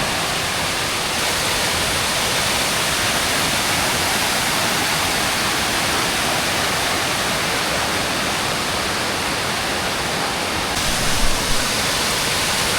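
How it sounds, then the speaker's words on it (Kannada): Loud, steady rush of water pouring down a waterfall on a rainy day near Olpererhütte, Austria, a continuous broadband roar throughout with no voices. "ಫಾಲ್ಸಿಂದ ಡೈರೆಕ್ಟ್ ನೀರು ಬಂದು ಇಲ್ಲಿ ಬೀಳೋ ಥರ ಮಾಡಿದ್ದಾರೆ"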